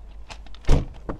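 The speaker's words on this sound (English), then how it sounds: "Open up the doors again." Car doors on a 2019 MG3 1.5 Exclusive five-door hatchback being opened, a couple of soft mechanical clicks followed by a louder dull thunk and a short latch knock, close up with no talk.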